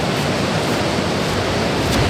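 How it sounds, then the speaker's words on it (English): Rushing river water near the Tumpak Sewu waterfall in East Java makes a loud, dense, unbroken roar that holds steady throughout, with no voices. "Wow, the next one is a river."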